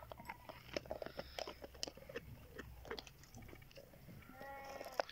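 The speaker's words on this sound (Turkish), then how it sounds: "Karnı tok olsa bile kemik kemiriyorlar." A dog gnaws and chews a bone up close, with faint irregular crunches and bites and quiet mouth sounds over a low background.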